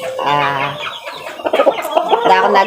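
A rooster crows loudly up close, followed by a burst of clucking hens, with no speech.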